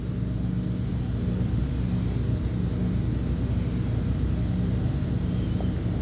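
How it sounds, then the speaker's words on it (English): A neighbor's generator drones steadily in the distance outdoors, a continuous low rumbling hum that never changes over several seconds, with no voices. "the neighbor's running a generator"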